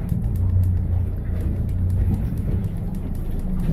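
A 2020 Duckworth Pacific Navigator 215 boat's outboard engine runs in gear at low trolling speed, giving a steady low drone with faint ticking and water noise in the background.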